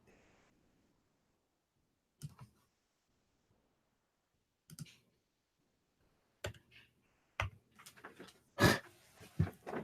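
Keyboard typing at a desk in sparse bursts, a few isolated clicks early and then denser clusters of keystrokes toward the end, close and quiet against near silence.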